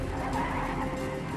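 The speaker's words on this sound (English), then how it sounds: "Alex Pesic is being chased by a red sports car" A car skids with a sustained tire squeal during a reenacted chase by a red sports car, a dense, loud screech over engine noise lasting the whole moment.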